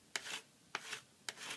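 A scraper drawn across a snowboard base to shave off excess P-tex from a repaired gouge, three short rasping strokes, each with a sharp start, close and quiet.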